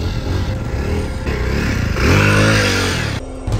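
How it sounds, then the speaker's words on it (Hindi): A motorcycle engine runs close by on a narrow village path at night, a loud steady drone that rises briefly as it revs, with no voices. "तो गाइस यहीं से बाइक लेके आते हैं।"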